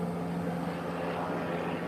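Helicopter flying overhead, a steady distant rotor and engine drone that holds at an even level throughout with no talk.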